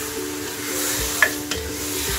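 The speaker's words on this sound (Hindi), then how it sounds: "अच्छे से मिक्स कर लूंगी इसको।" Goat head curry being mixed in a cooking pot, a steady sizzling hiss with a couple of sharp scraping clinks from the spoon partway through, fairly close and with no talk.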